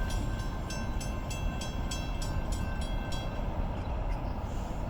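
A Union Pacific westbound manifest freight train, engine 4911, rolls past a road crossing, its cars making a steady loud rumble with a regular clacking of wheels over rail joints.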